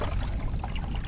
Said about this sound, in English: So when you change the height and the length, it feeds more water into this trough.